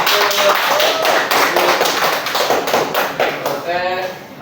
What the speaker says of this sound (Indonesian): tepuk tangannya buat kelompok 1